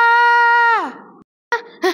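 A woman screams loudly in one long, sustained cry that bends downward and breaks off. After a short silence, brief strained vocal sounds follow.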